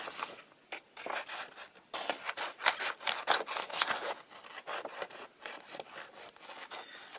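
Scissors cutting a leaf shape out of green paper, a close series of crisp snips and rustling paper strokes in an uneven rhythm, no talk.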